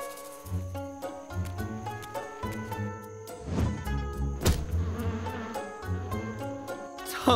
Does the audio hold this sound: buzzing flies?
yes